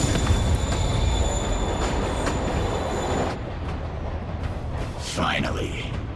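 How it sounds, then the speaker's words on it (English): A train rolls along the tracks in the video game Spider-Man PS4, a steady rumble with a wheel squeal and a faint clatter that thins out halfway through. "Train moving."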